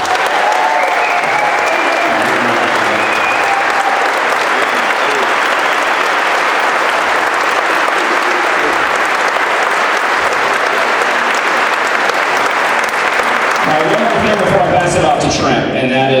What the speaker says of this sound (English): Please, a round of applause for Katie Pavlich